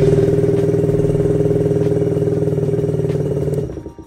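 A loud motorcycle with a gutted muffler and a newly replaced carburetor runs steadily at close range, its raw, harsh throbbing held for over three seconds before it cuts off and fades.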